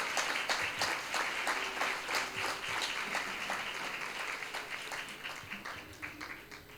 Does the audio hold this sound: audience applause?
yes